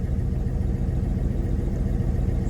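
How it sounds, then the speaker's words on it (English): A 1981 Chevy C10 square-body pickup with a carbureted engine idles steadily, a continuous low, rumbling drone running evenly and close by with no talk over it. "it's running, it's idling."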